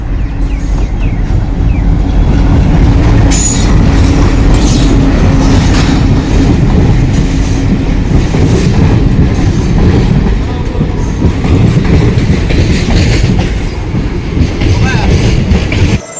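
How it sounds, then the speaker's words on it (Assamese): Train pulling into Borhat station, its rail cars rumbling steadily with wheel clatter and faint squeals, loud and close throughout, with brief voices mixed in the background. "ট্ৰেইন আহি পালেহি, আপোনালোকে দেখা পাইছে"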